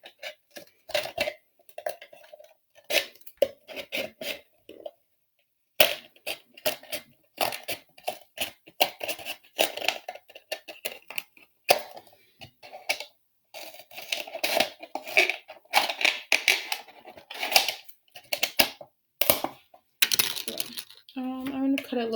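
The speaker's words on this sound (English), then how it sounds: "I have some lines on my bottle, so I'm going to use the lines to kind of help me cut as well" Scissors cutting a plastic bottle along marked lines, repeated crisp clicking snips in irregular bursts with short pauses, close and fairly loud, no talking.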